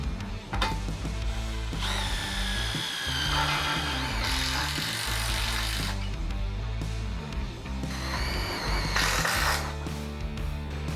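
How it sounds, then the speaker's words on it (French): A drill drives self-drilling screws to fix the foundation beam of a sliding glass door to its support, giving a loud, continuous whirring drone with rising and falling pitch as each screw bites and seats. "Par ces ouvertures, nous fixons la poutre de fondation au support. Vous le faites avec des vis autoperceuses."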